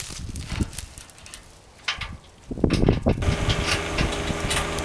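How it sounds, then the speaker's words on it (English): A John Deere 1025R compact tractor with a 53-inch bucket runs at full throttle in low range and four-wheel drive, pulling hard on muddy ground. Its rough, steady engine drone swells louder partway through, with no voices. "The 1025R is throttled up, low range, 4-wheel drive, and pulling all it can"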